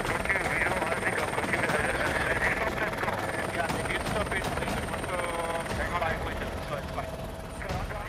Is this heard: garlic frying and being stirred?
no